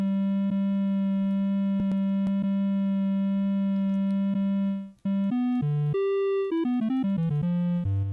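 A steady sustained synth tone from a Woovebox with auto-pan at a faster rate holds alone, then breaks into a quick sequence of shifting pitched notes in the second half.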